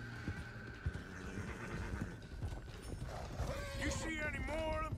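Horse in the Red Dead Redemption 2 video game: hooves clip-clop in an uneven rhythm, then a loud, wavering whinny rises near the end, with a voice talking faintly underneath.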